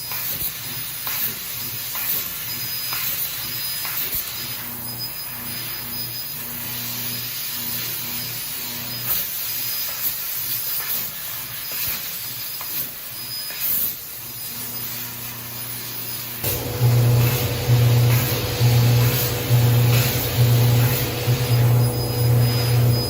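A laser cutter works through a part in thin sheet metal with a continuous loud gas hiss. Partway through, a rapid pulsing buzz joins the hiss and continues steadily to the end.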